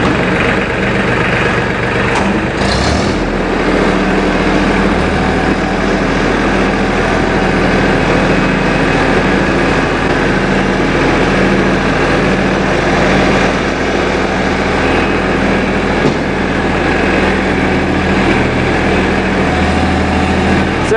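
Mahindra Max 26XL tractor engine running steadily as it climbs over a mower deck, a loud continuous diesel drone with a short knock near the start and little change in pitch.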